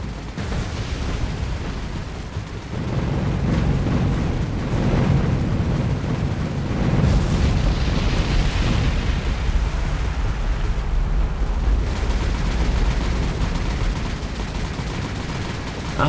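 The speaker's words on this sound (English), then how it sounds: "Were only 2 bomb hits there, and these skipping bombs didn't actually get us anything either." Skip bombs bursting in a naval warfare game, a heavy continuous barrage of booming explosions and gunfire-like crackle, loud and dense with repeated impacts across the whole stretch.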